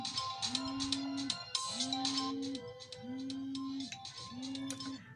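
A phone ringtone sounds for an incoming call, a repeating tonal melody in four even bursts over about five seconds, loud and steady, with faint background noise and no speech.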